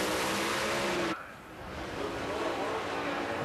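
Alcohol funny car drag racing at the Indy US Nationals, its engine a loud, dense roar that cuts out abruptly, then a lower, steady rumble from the far end of the track.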